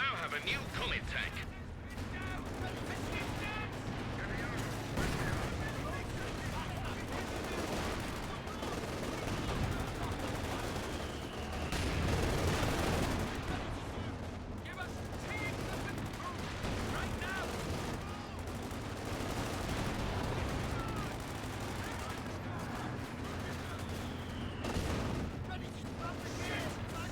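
Sustained artillery barrage in Company of Heroes 2, with dense rumbling booms and crackling blasts running continuously at steady loudness, mixed with ongoing battle noise and occasional voice lines.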